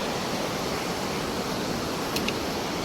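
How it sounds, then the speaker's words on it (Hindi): The steady, broad roar of a Himalayan waterfall at Chirbasa on the Gomukh trek fills the air as a constant rushing wash of water, with a couple of faint brief chirps near the end. "ये सामने झरना आ रहा है।"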